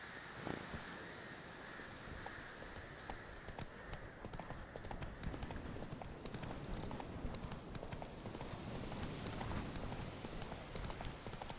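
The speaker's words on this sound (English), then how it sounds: "It's nice of Roach just to turn up like that." Horse hooves clip-clopping as the mount trots up in The Witcher 3: Wild Hunt, a rhythmic series of hoof falls over wind noise, growing busier toward the end.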